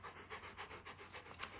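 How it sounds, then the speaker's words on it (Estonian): A dog panting close by, quick rhythmic breaths repeating steadily at a fairly quiet level, with one brief sharper sound near the end. "siis see on mu koer, kes ähib"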